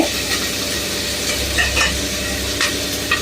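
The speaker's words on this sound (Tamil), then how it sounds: "வெங்காயம் வதங்கிடுச்சு." Onions sautéing in a pan for a Tamil vegetable meal, giving a steady close sizzle and fry with a few stirring scrapes and clinks, no one speaking.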